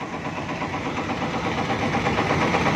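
A production machine engine runs in a steady, continuous drone during a test of production machines in Kepulauan Riau. The sound is close and fairly loud with a constant low vibration and no talking.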